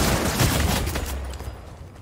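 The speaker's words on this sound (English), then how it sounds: "Hit him with my hand cannon." Hand cannon gunshots in the Fortnite video game: a burst of loud, rapid blasts at the start that fades out over about two seconds, with no speech.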